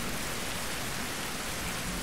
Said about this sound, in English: Oh, it's still raining. It's raining in our cave.